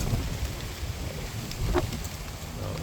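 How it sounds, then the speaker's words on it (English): Steady wind buffeting the microphone outdoors in a California orchard in January, a continuous low rumble with brief rustles and no talking. "Oh, it's pretty windy right now."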